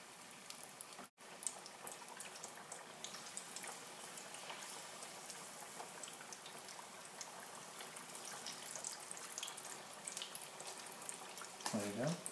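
Beer-battered fish for tacos frying in a pan of hot oil, a steady dense crackle and sizzle that grows busier near the end, with a brief drop-out early on.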